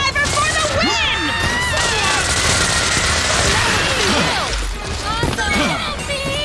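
Heavy 120mm cannon fire from an air raider's vehicle in the video game Earth Defense Force 5, loud repeated blasts and crashes amid chaotic battle effects, with voices and whistling projectiles layered over the barrage.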